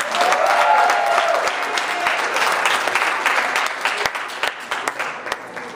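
Applause from a crowd at a Sunday School awards event: a full round of clapping that starts strong, then thins out into scattered claps before fading.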